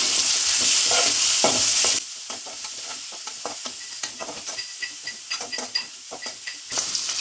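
Curry leaves hit hot oil with a loud, sizzling burst, then the sizzle drops and a spoon scrapes and clicks against the pan in quick, irregular stirring strokes; no one speaks.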